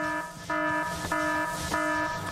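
Steam-shortage alarm in the factory-building game Factorio, a loud electronic buzzer tone repeating in short pulses about every half second, heard alone.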